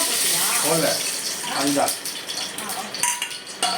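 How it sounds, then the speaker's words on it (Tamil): Cinnamon and kalpasi spices sizzle in hot oil in a pan while cooking chicken kuzhambu, a steady close hiss running throughout under a man's speech, with a few light clinks near the end. "பட்டை, கல்பாசி போட போகிறோம்"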